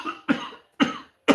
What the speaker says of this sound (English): My hearing went out in my left ear from that cough.